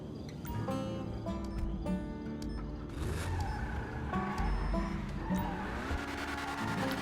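A stolen car being driven in GTA Online, with a loud, continuous engine drone and brief tire squeals as it speeds along, close up and with no talking over it.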